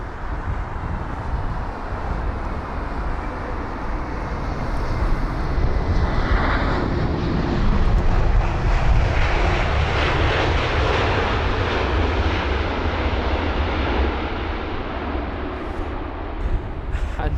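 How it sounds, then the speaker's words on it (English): An Airbus A330-300 freighter lands at London Heathrow on a windy day, its engines a loud, sustained roar that swells toward the middle and stays strong throughout, with wind buffeting the microphone. "A330-300 freighter from Leipzig, which is a 1 hour and 35-minute long journey"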